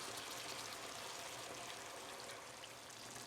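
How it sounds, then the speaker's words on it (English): Half a cup of water pours into a cooking pan of chilli chicken wings, a soft continuous splashing hiss lasting a few seconds, faint and steady. "Add about half a cup of water."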